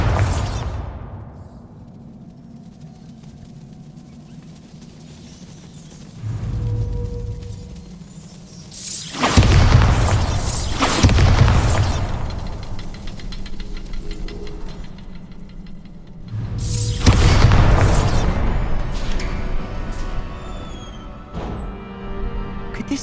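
Two separate Bombarda blasting spells go off in the game Hogwarts Legacy, each a loud, rumbling, broadband burst that fades slowly, with a low hum and scattered softer impacts between them.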